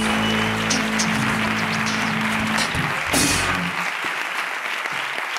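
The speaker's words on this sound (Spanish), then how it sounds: "Un aplauso para Jorge Ignatius." Studio audience applauding in a television show set, a dense steady wash of clapping lasting several seconds, with a low hum beneath that drops away near the end.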